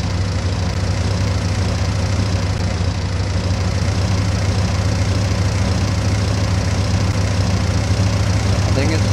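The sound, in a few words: locomotive engine warming up in Minecraft Immersive Railroading, from a video game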